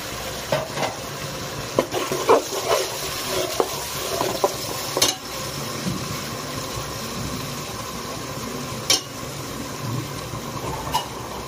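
Onion frying in a pan with roasted garlic, for a chicken masala, makes a steady, fairly loud sizzle with intermittent spoon scrapes and clanks throughout.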